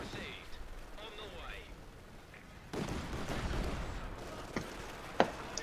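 Artillery fire in Company of Heroes 2, booming shots and rumbling blasts in a battle scene, growing louder midway with a sharp report near the end, while players talk over it.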